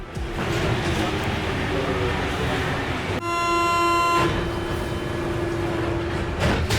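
A Paris Metro train rumbles along steadily, with a bright tonal whine or horn-like chord rising partway through before fading back into the running noise.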